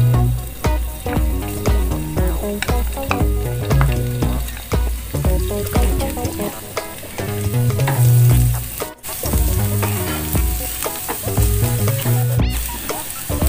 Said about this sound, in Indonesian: Kita tumis bawang putihnya ya.